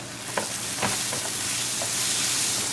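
Cooked tindora (ivy gourd) being stirred in a pan, with a few soft scraping strokes over a steady low sizzle and no talking.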